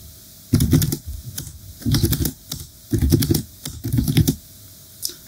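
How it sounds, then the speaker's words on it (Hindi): Someone types on a computer keyboard, pressing the Tab key between entries: four dense bursts of loud, close clacking separated by short pauses, ending with a single isolated keystroke. "टैब का बटन दबा दिया, यहां नाम लिख दिया आपने"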